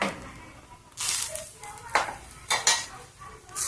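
Lemon rice being stirred in a pan after lemon juice and coriander go in, with several distinct clinking scrapes of a spoon against metal at an even pace, close and fairly loud, and faint sizzling between them.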